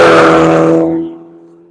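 A race car at Nelson Ledges, with a Camaro and Corvette in the group, roars loudly past close by during a One Lap of America session, its engine note fading quickly as it pulls away.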